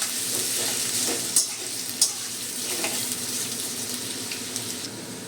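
Potatoes frying in a pan for a stalk curry, a steady close sizzle with light stirring scrapes and a couple of sharp clinks, no talking.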